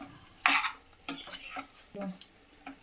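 Tomato pieces for chutney being stirred in hot oil in a pan, with a few scraping stirs and soft sizzling heard up close in short separate bursts.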